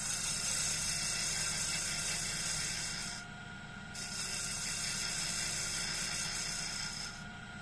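Gouge shearing across a workpiece spinning on a woodturning lathe gives a steady close scraping whir with a constant machine hum, easing briefly in the middle before resuming.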